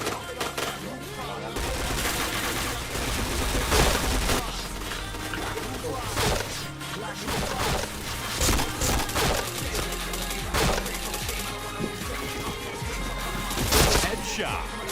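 Rapid gunfire from the first-person shooter PointBlank, dense bursts and single shots recurring throughout over a steady game soundtrack, with a voice talking now and then.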